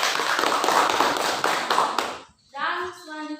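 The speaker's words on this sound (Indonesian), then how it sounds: "Kita beri aplaus untuk kelompok 3" Applause for group 3 after a class presentation on Indonesian pluralism: about two seconds of lively clapping from a room of people, followed by a voice speaking.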